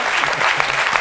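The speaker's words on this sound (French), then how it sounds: "je voudrais qu'on l'applaudisse très très fort" Loud, close applause from a TV talk-show studio audience, dense and energetic clapping filling the brief moment.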